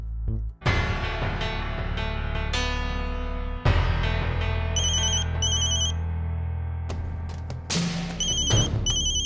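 A phone ringtone chimes out in repeated melodic bursts, fairly loud and close, with short pauses between rings and no talking over it.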